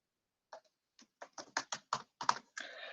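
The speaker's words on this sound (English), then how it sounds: "I'm typing really in a bad way" Computer keyboard typing: a series of separate key taps, sparse at first and then quicker and more regular, close and clear with no talk over them.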